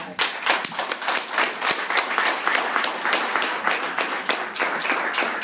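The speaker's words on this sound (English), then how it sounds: "Give them a round of applause" Audience members at a training event clap loudly and briskly, many hands producing a fast, continuous patter of sharp claps that stays strong for several seconds.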